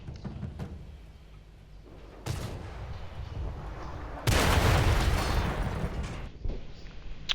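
Artillery fire in a video game, with distant thumps and then heavy, roaring blasts that swell into a loud rumbling barrage before trailing off into sporadic shots.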